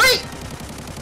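A loud burst of gunfire from somewhere overhead in the shooter game Arena Breakout, with a sharp crack at the start that fades into a brief echoing tail, with a voice talking faintly beneath.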